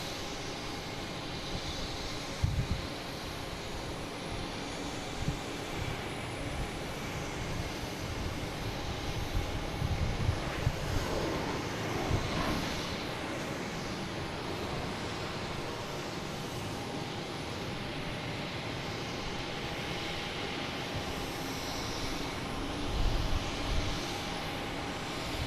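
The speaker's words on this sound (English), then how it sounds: "We have a Delta heading to Milwaukee." A Delta Embraer E175 departs Boston Logan for Milwaukee, producing a continuous, fairly distant jet rumble with a few brief bumps in loudness.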